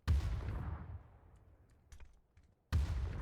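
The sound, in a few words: grenade explosion in the video game PUBG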